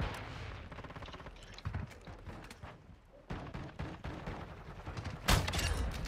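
Shotgun fire in the video game Call of Duty, with a few loud blasts and clattering gunfire over dense game noise, the sharpest shot near the end.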